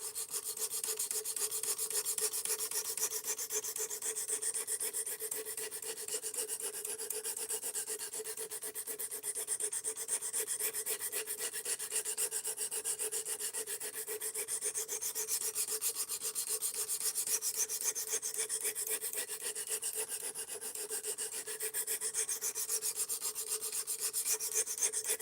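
S35VN steel is being sharpened on a 220 grit abrasive in steady, continuous scraping strokes, a close, even rasping that holds a consistent rhythm throughout with no voices.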